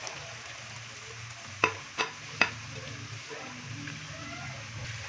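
Marinated chicken dropped into a pan with green chillies for a spicy rogan curry, a soft steady sizzle with three sharp clanks of a spoon stirring against the pan.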